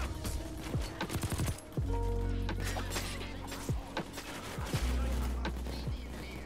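Gunfire in Payday 2, with bursts of shots, thuds and impacts over a noisy game soundscape and some faint speech mixed in.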